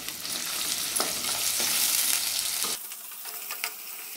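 Long-sliced large onions with a pinch of salt sizzling and frying in a pan for green peas pulao, a steady close crackle with stirring clatter that thins out partway through.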